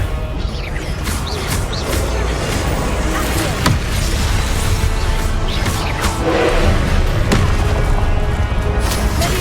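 Confringo blasting spell explodes in the video game Hogwarts Legacy, a loud boom set in dense, busy combat audio with sharp crashes and impacts recurring throughout.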